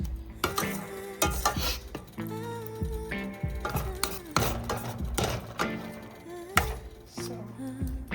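Spice paste tossed and stirred in a pan for an okra yogurt curry, giving steady scraping and clinking of a utensil against the pan with a light sizzle, over continuous tonal background sound.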